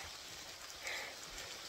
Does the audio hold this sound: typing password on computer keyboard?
no